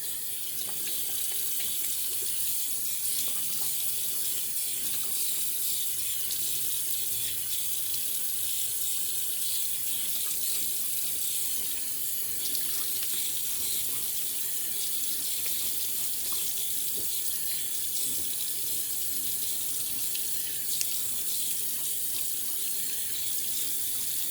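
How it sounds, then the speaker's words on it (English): Water runs steadily from a tap onto a shaving brush at a sink, a constant close splashing rush with slight variations as the brush is rinsed, with no talking. "Now I'm rinsing the brush."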